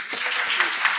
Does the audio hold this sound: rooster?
no